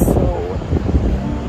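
Wind gusting straight into the microphone outdoors on a travel day, producing loud, low, buffeting rumble that swells and drops throughout, with a voice talking over it.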